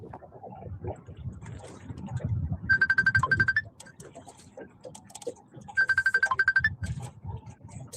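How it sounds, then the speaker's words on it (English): A phone ringtone plays two short electronic bursts a few seconds apart over background chatter and low room noise. "Now, I'm assuming that was their phone ringing."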